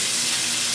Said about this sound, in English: We're gonna run the sink water.